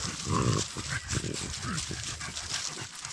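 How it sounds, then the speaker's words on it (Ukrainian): Several dogs barking outdoors in a weedy, overgrown area during a hot-weather mushroom hunt: short, rough barks in a loose cluster, fairly near, with people talking over them. "Так, всі собакени."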